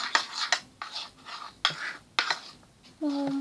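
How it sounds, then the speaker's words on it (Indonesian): Wet slime being stirred with slime activator in a bowl, producing several soft squelching, scraping strokes in a rough rhythm, close and moderately loud, with a voice speaking briefly near the end. "Setelah itu kita aduk."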